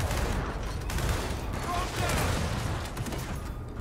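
Dense, continuous machine gun fire in the Gears of War 4 video game, a sustained broadband rattle of rapid shots mixed with other battle noise, steady and loud throughout with no clear pauses.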